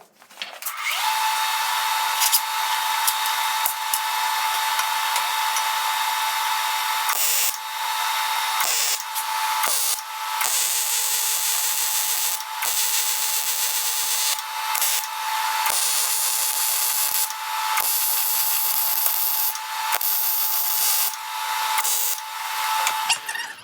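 A brace is welded onto a KA Tools KT-2002 tire machine, giving a loud, close, sizzling crackle that runs in long bursts broken by short pauses.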